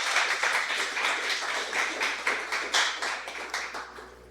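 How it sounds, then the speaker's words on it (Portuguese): A church congregation applauds, a steady wash of many hands clapping with slightly uneven rhythmic pulses, moderately distant and sustained with no talking. "Você pode aplaudir ao Senhor."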